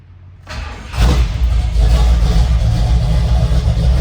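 A 1966 Ford F100 pickup's engine cranks briefly, catches and fires, then settles into a loud, steady revving rumble that holds through to the end with no talking.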